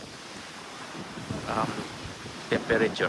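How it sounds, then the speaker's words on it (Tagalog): Strong, warm wind gusts across an open cruise ship deck in the middle of the Caribbean, buffeting the microphone with steady rushing noise while someone speaks briefly over it. "Malakas ang hangin pero hindi siya malamig."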